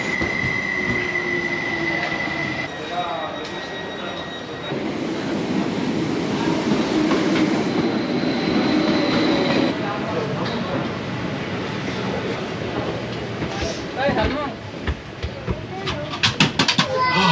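A train rolls along the rails with a steady rumbling clatter, wheels squealing at times and louder clacks toward the end.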